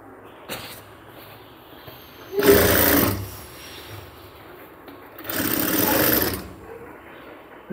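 A sewing machine stitches cargo half pants in two loud bursts, each lasting about a second, with quiet pauses and faint handling noises between them.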